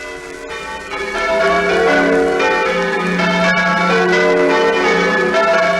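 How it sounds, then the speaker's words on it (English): Church bells ring from the ancient square tower of St Mary's, Puddletown, in a quiet Dorset valley, sounding loud and rich with overlapping ringing tones that swell and sustain throughout, with no voices. "They're the bells that are ringing from the ancient square tower of St."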